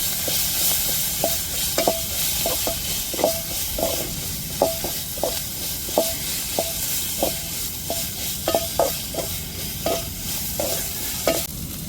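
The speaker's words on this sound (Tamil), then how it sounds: "இப்போ அம்மிலையே இடித்து எடுத்த இஞ்சி பூண்டை சேர்த்துக்கிறேன் நல்லா இஞ்சி பூண்டு பச்சை வடை மாறட்டும்" Hand-pounded ginger and garlic paste frying in a pan for a green chicken dish, with repeated light scrapes and clinks of stirring over a steady soft sizzle, fairly close, no talk.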